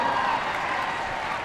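A crowd at the Pony Club mounted games Prince Philip Cup, Horse of the Year Show, applauds and cheers in a continuous dense wash of clapping and voices, with an announcer audible over it.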